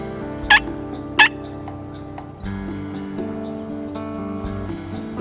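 A wild turkey gobbles twice in quick succession during a spring turkey hunt. The calls are loud and fairly close, over a soft outdoor background with a faint steady tonal hum.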